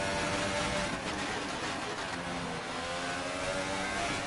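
Formula 1 race car engines from F1 2018 scream at sustained high revs side by side in a drag race toward Parabolica at Monza, a dense, loud, continuous whine with no talking.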